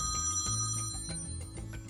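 A classic telephone bell, an iPhone's Old Phone ringtone, rings with a rapid metallic trill over a sustained tone, fairly loud and close, with no talking.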